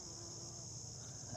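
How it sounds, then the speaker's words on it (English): A bee buzzes steadily among pumpkin vines in a home garden, a faint continuous drone close by with quiet outdoor ambience and no talking. "There's a little bee. There you go, having a nice little snack in there."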